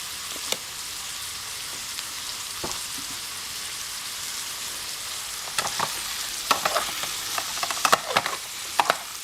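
Steady sizzling of vegetables frying in a canteen cup, with occasional clatters and scraping of a utensil stirring near the end.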